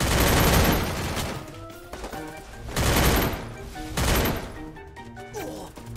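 MP5 submachine gun fire in the mobile shooter game Free Fire: several loud bursts of rapid automatic shots, separated by short pauses, with game sounds continuing between the bursts.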